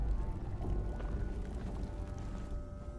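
A character wades through shallow water in Fallout 4, giving a continuous low, muffled sloshing and churning at moderate volume with no talking.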